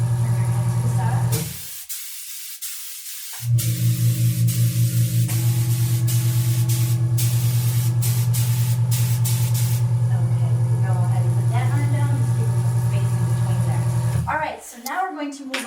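An airbrush spray tanning gun mists tanning solution onto skin in a loud, steady hiss with a humming compressor, cutting out briefly and restarting, then stopping near the end.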